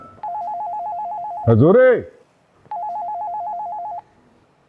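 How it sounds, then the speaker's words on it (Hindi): A phone ringtone trills in two bursts of rapid warbling tones, broken by a man's loud exclamation between them, indoors in a drama scene. "ये किसका फोन बज रहा है?"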